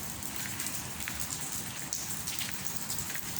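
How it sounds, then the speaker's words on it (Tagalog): Steady rain patters on garden plants such as orchids and eggplants, a dense continuous hiss of drops with scattered closer splats, heard alone at moderate level. "2 araw na naulan."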